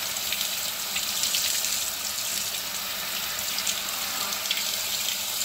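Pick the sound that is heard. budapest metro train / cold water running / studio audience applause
cold water running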